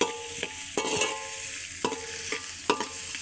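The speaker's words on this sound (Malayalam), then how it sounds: "നമുക്ക് നന്നായിട്ട് ഇളക്കി കൊടുക്കാം നന്നായിട്ട് വഴറ്റി എടുക്കണം" A utensil scrapes and stirs in a pan several times over a soft, steady sizzle of food sautéing for a fish curry, with no one talking.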